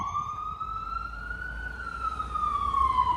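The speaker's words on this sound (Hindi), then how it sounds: "ये देखो, ये एम्बुलेंस आ रही है।" An American ambulance stuck in traffic sounds its wailing siren steadily, with the pitch rising and falling slowly, loud and continuous over low road rumble.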